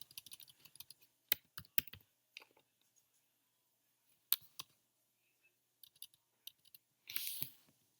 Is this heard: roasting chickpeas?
no